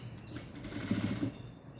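A sewing machine runs a short, quiet burst of stitching on blouse fabric, a faint rapid clatter lasting under two seconds with no talking.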